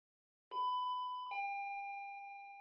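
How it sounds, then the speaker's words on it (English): A doorbell in the Ghostpia video game rings out a clear two-tone chime, a bright first note followed by a lower sustained second tone that slowly fades, with no other sound. "When the doorbell rings, the three of us back into my room get excited."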